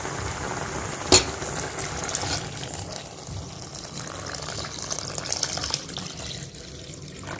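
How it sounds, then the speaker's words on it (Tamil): Sugarcane juice pours into a pot of cooked sago payasam, giving a steady, close watery rush throughout with a brief clunk near the start and no talking. "இப்போ இதை இந்த ஜூஸை சேர்த்துக்கலாம்"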